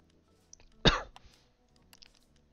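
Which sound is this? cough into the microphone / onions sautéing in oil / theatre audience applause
cough into the microphone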